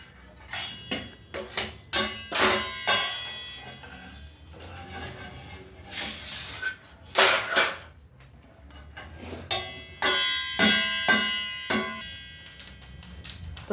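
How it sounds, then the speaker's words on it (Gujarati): A small child bangs a metal pot with a large spoon as if playing a dhol, producing bursts of sharp clanging strikes in irregular clusters separated by brief pauses, loud and close, with no talking. "ચમચો લઈને બેસી ગયા છે આજ તો ઢોલ વગાડવા માટે"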